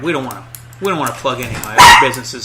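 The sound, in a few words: dog barking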